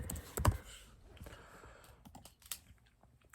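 Light typing on a computer keyboard, quiet uneven key clicks with one sharper tap near the start, close and soft with no voice over it.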